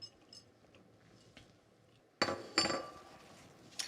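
Spoon stirring blackberries, sugar and lavender syrup in a bowl, faint soft scraping at first, then a few sharp clinks and wet knocks of utensil against the bowl, close and alone.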